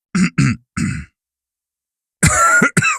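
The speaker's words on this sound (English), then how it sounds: "You need to look at that cough" A few short, harsh coughs in quick succession, then a pause followed by two more rough coughing bursts, close and fairly loud.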